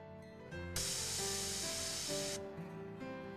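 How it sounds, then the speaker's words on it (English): A bear spray canister fires a short test burst, a loud close hiss lasting under two seconds, set against quieter background noise with no talking. "Press the trigger with a short test burst."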